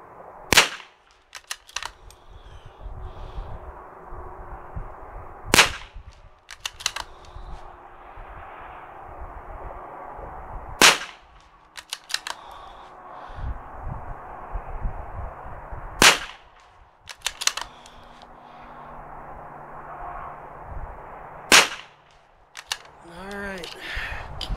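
A MkII pistol firing CCI standard velocity rounds at targets 100 yards away: five sharp, loud single shots spaced about five seconds apart outdoors, with quieter background noise between them.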